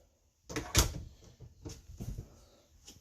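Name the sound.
RV bathroom door opening or closing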